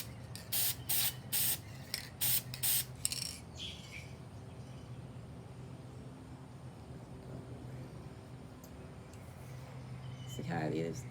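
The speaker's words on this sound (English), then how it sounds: "then we're gonna spray this" A spray can hisses in about five short, sharp bursts close by as paint coats a DIY mirror candleholder, followed by a quieter stretch of background noise while a person talks.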